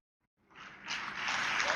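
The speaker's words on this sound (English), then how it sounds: "Oh yeah, round of applause." A comedy club audience breaks into applause after brief silence, the clapping swelling quickly into a dense, loud wash of hands that keeps building to the end.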